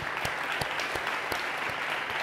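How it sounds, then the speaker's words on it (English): A small audience claps at a storytelling session of a global symposium, a thin, steady patter of hands with a few sharper, louder claps standing out at intervals. "I think we should clap for that."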